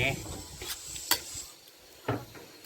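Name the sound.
stir-frying long beans with oyster sauce in a pan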